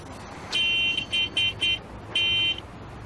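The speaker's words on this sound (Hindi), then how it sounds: "हाय, ये हॉर्न, इसको भी यहीं बजाना है।" A car horn honks in a series of bright beeps: one long blast, three quick short toots, then another long blast, fairly loud over faint background hum.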